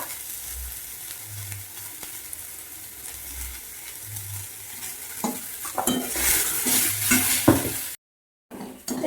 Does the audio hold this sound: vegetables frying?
yes